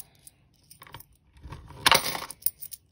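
Coins drop and clink into a coin jar, a few scattered taps at first and then a louder metallic jangle near the end, close up and otherwise quiet.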